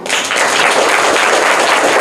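Vigorous crowd clapping for the first-place winner at a quiz game, a thick continuous burst of many hands nearby that holds steady at full strength for a couple of seconds.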